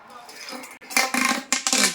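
A toy spatula clinks against a small toy wok, a few light metallic taps followed by a quick run of brighter clatters close by.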